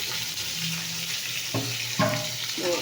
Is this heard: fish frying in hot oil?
yes